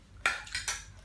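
Pots and pans clatter during kitchen cleanup, three quick, close clanks of metal cookware in about a second.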